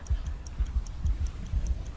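A clock ticks steadily and faintly, with regular high clicks over low, soft pulses in a dark, tense setting.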